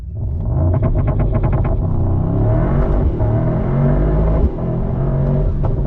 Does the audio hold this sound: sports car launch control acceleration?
yes